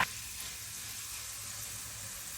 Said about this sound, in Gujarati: આમ આપણે આ રીતે એકદમ છે ને ક્રિસ્પી તળી લેવાના.